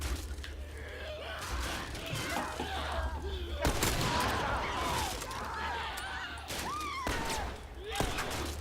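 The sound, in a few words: gunshots in the video game The Last of Us Part II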